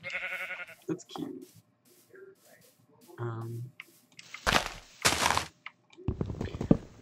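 Minecraft sheep bleat in short bursts among scattered game clicks and thuds, fairly faint, with a person talking in between.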